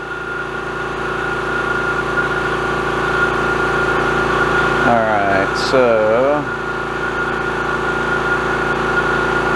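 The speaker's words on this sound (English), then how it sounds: "course the compressor decides to kick on" An air compressor in a laser-engraving workshop hums steadily and loudly throughout, a constant droning motor tone, while someone speaks briefly over it midway.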